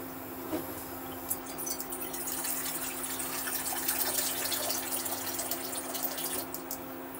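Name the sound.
water being poured into a cooking pot for peas pulao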